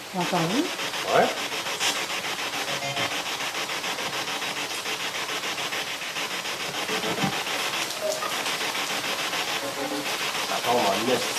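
Heavy rain falls outside at night in Le Gardeur, a steady broadband hiss with a few faint voices and small knocks scattered underneath.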